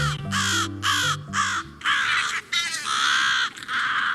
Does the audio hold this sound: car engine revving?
no